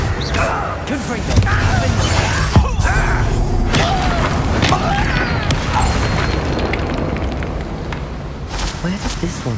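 A Confringo blasting spell in Hogwarts Legacy goes off as a loud, heavy boom that rolls into a sustained rumbling blast, with a voice speaking over the din.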